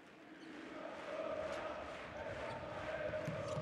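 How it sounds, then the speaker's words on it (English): Home crowd in an Aris Thessaloniki basketball arena during a Champions League game, a moderate steady murmur and chant-like swell that rises partway through, heard behind quiet commentary. "You can hear the home crowd as Will Cummins brings the ball up."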